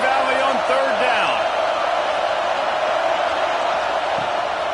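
A big football crowd roars in Happy Valley on a third down, a dense, steady wall of stadium noise with shouts and whoops rising from it throughout.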